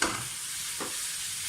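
Minced chicken fries in a lightly oiled hot pan, a steady close sizzling hiss that stays even throughout, with one faint stirring scrape in the middle.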